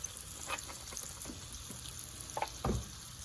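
Beef browning in hot oil in a pan for a crockpot beef stew gives a faint, steady sizzle with a few soft clicks and a brief louder clatter near the end.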